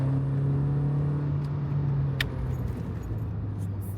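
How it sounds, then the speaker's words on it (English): A Volkswagen GTI's 2-litre 16-valve engine idles with a steady low hum, a brief mechanical click partway through, continuous and close with no talk. "Oh, come on, 2 litre 16 valve. I hope you can hear that."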